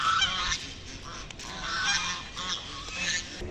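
Geese honking loudly and close by, repeated raucous calls overlapping in bursts throughout, with no talk.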